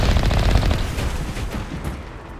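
Mako tank cannon fire in the Mass Effect video game: a loud, dense burst of rapid shots that rattle on without pause, then ease off slightly toward the end.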